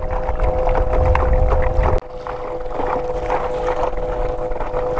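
A motorized Hobie Lynx fishing kayak runs against the current with light pedaling, a steady motor hum and water wash with wind noise buffeting the microphone.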